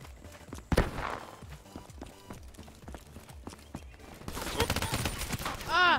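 Rapid gunfire in the shooter Call of Duty Black Ops III on the Nuketown map, a quick series of sharp shots among footsteps and game noise, with a louder burst near the end.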